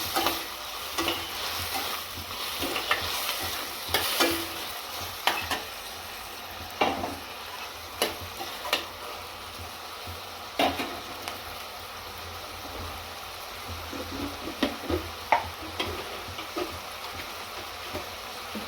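Tomatoes sizzle and fry in a pan for a fenugreek-leaf and broad bean curry, with steady crackling throughout and repeated scraping knocks of a spoon stirring close by, and no voices.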